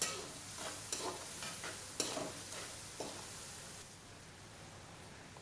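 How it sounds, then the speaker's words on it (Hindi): Potatoes, peas and carrots being stirred with red chilli, salt and turmeric in a pan: a quiet, soft sizzle under repeated scraping strokes of a spoon, with a few sharper clinks along the way. "आलू मटर गाजर अच्छे तरीके हिला गिन सो, मिक्स कर गिन सो"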